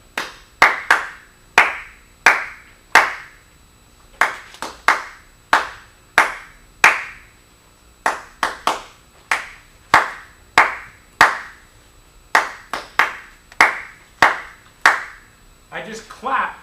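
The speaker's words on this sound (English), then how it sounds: "I just clapped the rhythm of Happy Birthday." Hands clap out the rhythm of Happy Birthday, sharp close claps in phrased groups with short pauses between them, ending with a brief bit of noise.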